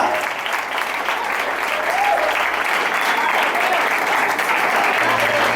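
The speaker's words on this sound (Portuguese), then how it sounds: "Você pode aplaudir o Senhor" A congregation at a church youth congress applauds the Lord with a loud, continuous wash of many hands clapping together, holding steady throughout.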